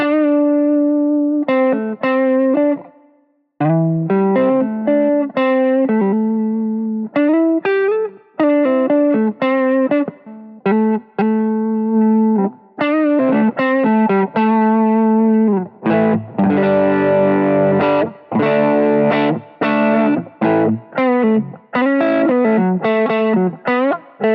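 Distorted electric guitar, a Squier Bullet Strat fitted with Kawaku pickups, played through effects, with repeated riffs and chords, brief pauses between phrases, and a thicker, louder passage near the end.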